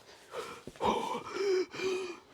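Heavy, close breathing of a man walking around an acreage property: a few audible gasping inhales and long wheezy exhales, alone without talk.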